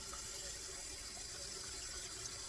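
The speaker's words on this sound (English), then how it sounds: "You want that dirty water to run out," Water runs steadily from a tap while a cast iron pan is rinsed in a sink, a constant soft hiss and splash with no breaks, fairly quiet and even throughout.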